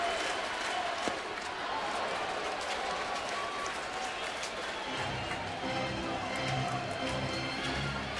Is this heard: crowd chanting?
yes